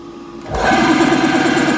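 A CO-7B air compressor filling a 300-litre receiver kicks on abruptly after a quiet moment, then settles into a loud, steady, rhythmic mechanical chugging and pumping close by.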